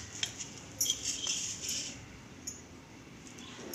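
A knife slicing through a homemade date and dry-nut bar, giving a few light clicks and scrapes of the blade on a board or plate, close and fairly quiet with no talking.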